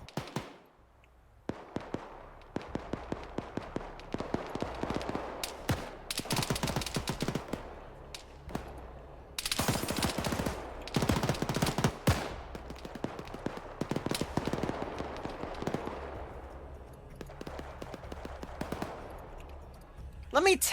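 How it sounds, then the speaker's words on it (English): In Arma 3, AK rifles and other guns trade fire in sustained bursts and rapid single shots, some near and loud, others farther off, with someone talking intermittently. "I hear them firing back."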